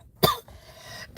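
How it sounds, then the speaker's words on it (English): A single person coughs and burps at once, a short harsh burst followed by a brief, low throaty sound, then another sharp burst, close and loud with no talking. "Y'all ever had to burp and cough at the same time?"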